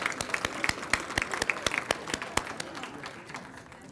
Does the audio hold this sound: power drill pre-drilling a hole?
no